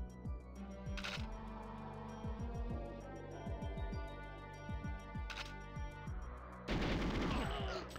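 Gunfire rings out in the Caverns level of the GoldenEye 007 video game as short bursts of shots over the game's music, with a louder, denser volley near the end.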